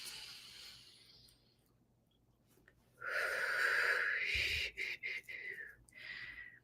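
A deep breath in during a guided meditation, a long airy inhale swelling near the microphone after soft murmured talk, followed by a few shorter breathy sounds.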